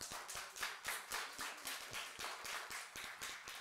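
A small audience at a climate leadership course closing ceremony claps for Ban Ki-moon. The claps come as a quiet, rhythmic patter of distinct hand strikes that is fairly faint and sparse, with no speech over it.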